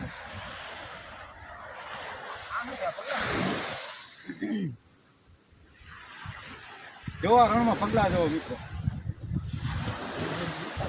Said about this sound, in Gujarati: દરિયા કાંઠે આવીને દરિયાનો ઘોંઘાટ સાંભળવું બહુ મજા આવી